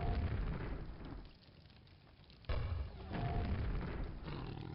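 Shambler monster in Quake letting out a deep, rumbling roar, loud and close, dipping mid-clip and then surging again with a harsh growl.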